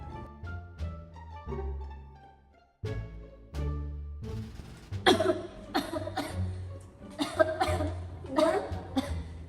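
Someone coughs in a run of harsh, repeated bursts, after earlier softer sounds and some throat noises, fairly close and moderately loud.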